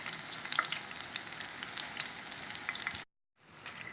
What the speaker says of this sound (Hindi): लीजिए नाज़रीन आप देख सकते हैं कि भल्ले फ्राई हो रहे हैं।